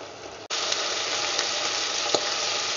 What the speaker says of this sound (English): the meat gonna start frying in its own juices